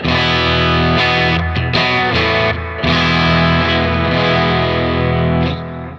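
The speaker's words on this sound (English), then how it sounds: "That's the vintage 76 Marshall 1960A." Sustained distorted electric guitar chords ring out loud and full through a vintage 1976 Marshall 1960A cabinet, with a few brief breaks between strums, no voices.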